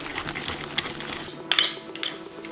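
A spoon or whisk knocks and scrapes against a bowl while almond cream filling with almond extract is mixed, a few light clinks and taps over a soft, steady background.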